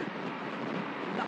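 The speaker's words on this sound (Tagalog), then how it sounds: "Oh Lord, hinahangin ako." Strong wind roars steadily across a rider's microphone on a Kymco Xciting VS 400 motorcycle cruising an expressway, a dense, unbroken rush with no pauses.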